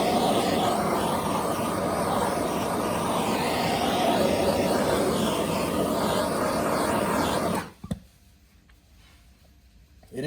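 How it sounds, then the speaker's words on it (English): A gas torch roars steadily and loudly at close range while heating a drinks can, then cuts off abruptly, leaving near silence. "Now I'm going to do it just with a gas torch"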